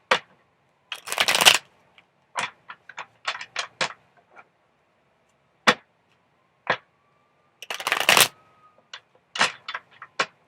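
Cards are shuffled in quick riffling bursts, separated by sharp taps and clicks of cards being handled, close and otherwise quiet.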